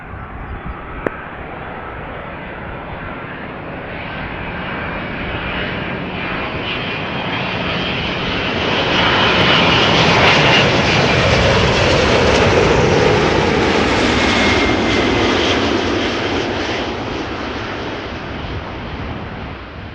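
An 18-year-old Boeing 777-200ER arrives at Amsterdam Schiphol on runway 06, its jet engines a loud roar with a high whine that swells as it passes close by, then slowly eases off.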